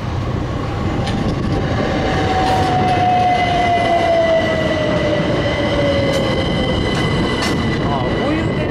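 A train passes by close in Canterbury, England, a loud continuous rumble and rattle with a drawn-out wheel squeal and a few clicks over the track.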